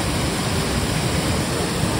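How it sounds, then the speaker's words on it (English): Steady, dense rushing water fills the whole clip, a continuous broadband roar of a waterfall in the rain in southern Italy, with no other sounds. "Another waterfall."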